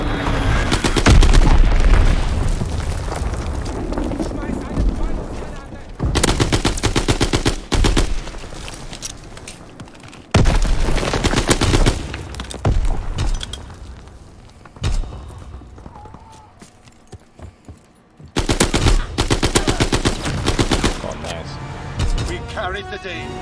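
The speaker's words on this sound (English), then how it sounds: "Enemy bomb incoming. Get to cover." Heavy bursts of gunfire and booming blasts hit loudly in a Call of Duty match, cutting off sharply and returning several times, with a player talking between and over the shooting.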